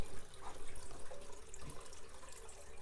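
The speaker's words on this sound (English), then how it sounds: "The water's still flowing in the fountain." Water trickling steadily in a garden fountain outdoors in a Zone 9a garden, a soft continuous splashing flow at moderate distance with no voices.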